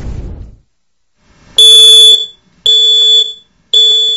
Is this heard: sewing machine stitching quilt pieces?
no